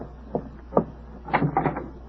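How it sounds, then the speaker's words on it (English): Door on a 1947 radio comedy broadcast, a staged effect: a soft handle rattle and latch click, then a louder clunk and wooden knocking as it swings open, close and fairly quiet, with no talk over it. "Rochester, see who's at the door, please."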